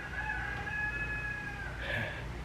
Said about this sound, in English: See, even the rooster's happy.